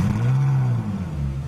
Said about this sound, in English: Talking of which, let's fire it up.